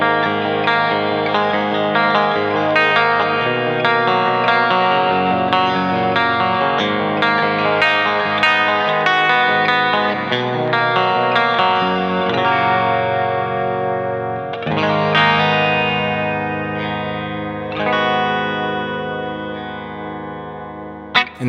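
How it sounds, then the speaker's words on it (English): A clean electric guitar on the bridge pickup's inside coil plays a flowing run of chords and single notes with light effects, steady and close, without any voices. "on a clean sound, the bridge on the inside coil sounds like this"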